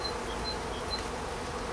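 Honeybees buzzing steadily around an opened hive during the first spring inspection of the year, a dense continuous drone close by with no talk over it.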